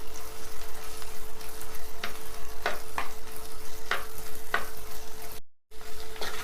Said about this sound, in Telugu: అల్లం వెల్లుల్లి పేస్ట్ వేసుకోండి, ఒక స్పూను వేసుకొని మంచిగా ఇది కూడా వేయించుకోవాలి